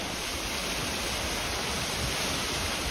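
A waterfall on a hiking trail gives a steady, dense roar of falling water, loud and close, with no other sounds.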